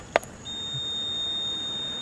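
Steady electronic warning buzzer tone sounding continuously from inside a car, a single high pitched beep holding without a break after a brief click at the start.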